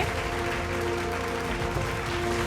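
Audience applause at a Bhojpuri award show ceremony, a steady dense wash of clapping lasting throughout, with music or tones mixed underneath.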